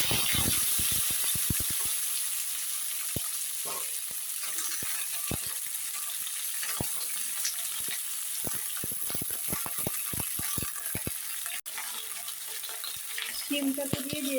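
Green beans frying in hot oil in a wok, a steady close sizzle with scattered clicks and scrapes of stirring throughout.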